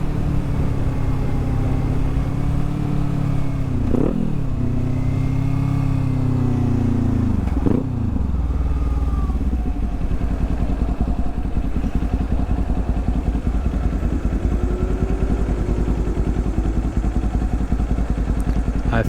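A Kawasaki Z400 motorcycle ridden in the evening, its engine note close and loud, rising and dropping through gear shifts in the first few seconds, then settling into a steady buzzing drone at cruising speed.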